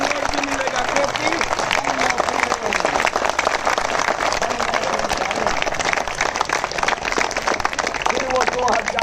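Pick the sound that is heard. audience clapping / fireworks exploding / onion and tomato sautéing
audience clapping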